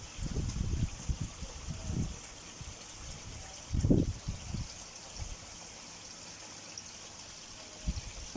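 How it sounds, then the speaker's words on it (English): Water running and trickling through a shower filter on a koi pond, a steady soft splashing stream with a few louder low gurgles and sloshes at intervals, outdoors at moderate distance. "Here's my Issa shower from Mike at Koi Beginnings."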